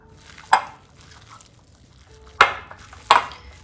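A spoon mixing fresh coriander into a simmering chicken kofta curry in a pot, three distinct scraping, clacking strokes spaced a second or two apart over a quiet background.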